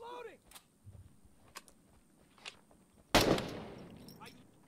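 Gunfire in the shooter game Six Days in Fallujah, with a few faint distant cracks and then one loud nearby shot whose echo trails off, along with soft game effects and brief low voices.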